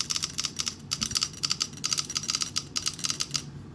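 Empire Axle 2.0 paintball marker firing with its eye system switched off, a fast run of sharp, bright shots in quick irregular bursts, close and loud, with no talking.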